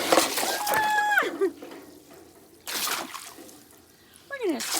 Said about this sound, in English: Man, that's got a good flow of water.